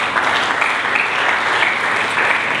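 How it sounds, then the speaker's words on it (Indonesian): A church congregation claps loudly and steadily during an Indonesian sermon, a dense, close wash of applause with no voices over it. "Berikan tepuk tangan bagi Yesus."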